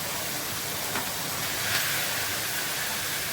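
Seasoned chicken, spiced and cooked with a bay leaf, sizzles in a hot pan with a steady, loud, broad hiss that holds evenly from start to finish, with no talk.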